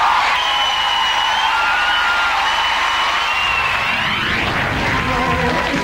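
Audience applause and cheering on a 1970s television show, a dense, steady crowd roar that stays loud throughout, with music rising in the second half.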